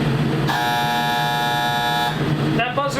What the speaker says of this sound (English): That buzzer is to tell us that our shells have actually landed at the target